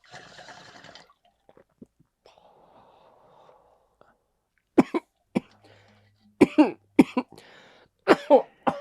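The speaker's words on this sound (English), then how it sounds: "So the cold can induce that cough" A man coughing after a bong hit: a quiet exhale and soft bubbling first, then a run of harsh, loud coughs in close bursts toward the end, heard up close.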